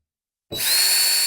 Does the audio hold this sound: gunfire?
no